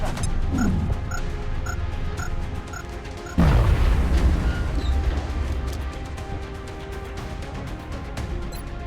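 A grenade detonates in XCOM: Enemy Within, a sudden heavy boom with a crashing burst midway, then rumbling debris and mechanical clatter fading under steady game ambience.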